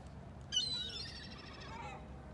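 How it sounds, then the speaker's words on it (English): Seagulls fly past near the water, letting out a burst of faint, high squawking calls after a moment of quiet, the cries fading away over a soft outdoor background. "So now there's so many seagulls flying by"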